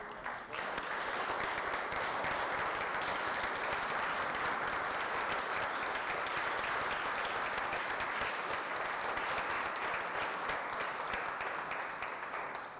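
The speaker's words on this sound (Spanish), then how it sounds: "Bueno, pues un fuerte aplauso." A lecture audience gives a long round of applause, dense and steady clapping from many people that stays at an even level for over twelve seconds, with no speech over it.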